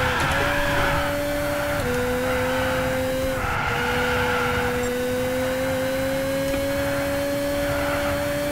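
Shifter kart in a racing video game at Autumn Ring Mini, its engine droning steadily while the tires squeal and slide through a long continuous skid, loud and close with no speech over it.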